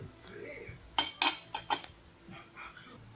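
A serving spoon clinks against dishes at a home dinner table, several sharp close clinks in a quick cluster over quiet room tone with faint background voices.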